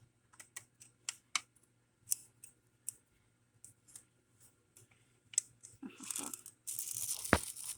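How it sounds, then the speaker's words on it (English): Scissors snip pink lace on a plastic-packaging craft, a series of small crisp close cuts in irregular rhythm, followed by rustling and crinkling of material at the end. "I need to cut off a little piece of that pink lace that's sticking out"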